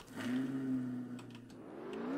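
A Corvette C8 supercar engine in a racing video game accelerates steadily, its rising harmonic drone swelling louder toward the end over a brief dip midway, with no voices.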